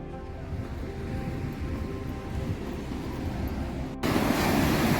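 Sea waves wash onto Devbag beach at low tide in a steady, broad surf hiss with some wind. The sound swells noticeably louder near the end, and no voices are heard.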